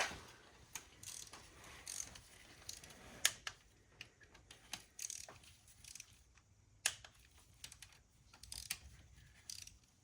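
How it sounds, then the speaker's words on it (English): Ratcheting clicks and scattered metallic taps as a torque wrench tightens cam carrier bolts to 8 Nm on a VW EA888 CCTA engine (Mk6 Passat/GTI/Tiguan), fairly quiet and close with irregular bursts and no talking. "now I'm going to break out the torque wrench"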